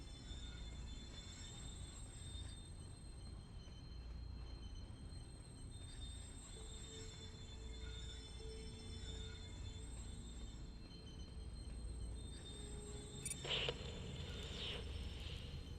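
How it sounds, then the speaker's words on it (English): Steady low rumble of a train car rolling along in the video game Close to the Sun, a constant mechanical drone with a brief high screech near the end. "because that's the noise of the train car."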